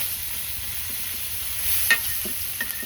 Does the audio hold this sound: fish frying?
yes